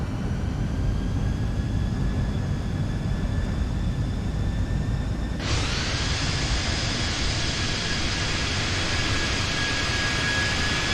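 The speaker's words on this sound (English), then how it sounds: "aircraft now is descending by itself" A jet aircraft's engines roar steadily during its descent toward runway 31 at Malaga. The loud, continuous rumble stays constant throughout, and a sudden shift in engine tone comes midway.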